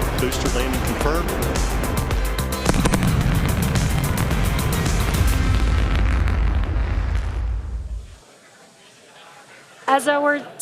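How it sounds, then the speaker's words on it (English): Two sonic booms from a returning SpaceX Starship booster land as a loud, sustained rumbling roar that fades out, followed by a short burst of voices and reaction in the room. "Just heard the two sonic booms here in the room."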